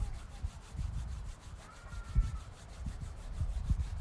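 Palms of the hands rub together in a soft, continuous dry friction, faint and close, with gentle irregular swells and no voices.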